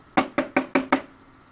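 Five sharp knocking or clicking pulses come in an even rhythm from a Keurig coffee maker while it brews, then fade to quiet; each hit is distinct and close.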